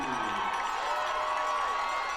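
A high-school football crowd at the Marion Harding vs. Pleasant game cheers steadily, a dense wash of voices and shouts sustained throughout without a break.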